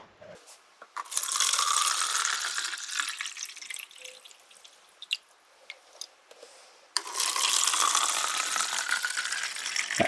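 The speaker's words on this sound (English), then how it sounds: "let's put some water in these" Water poured into containers set up for an electrolysis experiment, a steady splashing pour lasting several seconds, then a pause and a second pour, close by with no talk.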